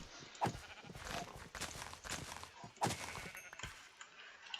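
Sheep bleat in a survival video game, two bleats standing out over a busy background of game sounds, clanks and ambient noise, with no speech.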